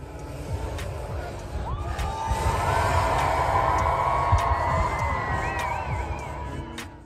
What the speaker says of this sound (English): The announcers encourage the crowd to make noise